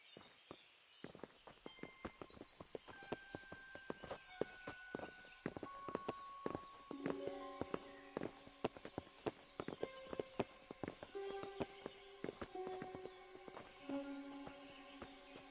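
Horse hooves clip-clopping in the video game Kingdom Come: Deliverance, a steady walking rhythm of hoofbeats with faint tonal game sounds and distant birds behind, fairly quiet overall.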